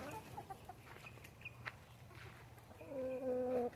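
Chickens, including a hen pecking at the chicks, cluck close by in scattered short calls, then give a louder, drawn-out call toward the end; no one speaks.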